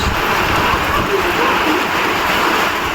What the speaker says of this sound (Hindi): गाइस देखो 2 मिनट के लिए बारिश इतनी तेज आई